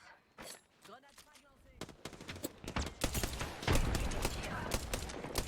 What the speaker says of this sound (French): J'ouvre le feu.